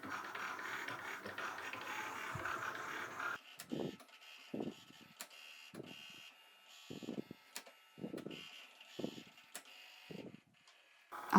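Sticker cutting machine slicing printed hand-drawn stickers: a steady whirring start, then a series of short, regular mechanical strokes and clicks with brief pauses between them, close and moderately loud.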